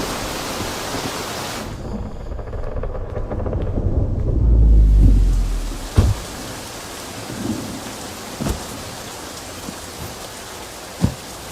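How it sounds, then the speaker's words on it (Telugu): Heavy rain pours steadily with rolling thunder swelling into a loud low rumble midway, followed by several sharp, close cracks or drips standing out against the downpour. "వర్షం గట్టిగా పడుతుందా?"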